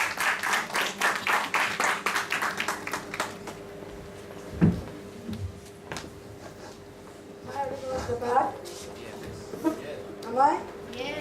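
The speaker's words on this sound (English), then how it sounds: "Please give a applause." An audience at a Toastmasters meeting claps for a speaker's icebreaker speech, a dense burst of applause lasting a few seconds before it fades into scattered knocks and room rustle.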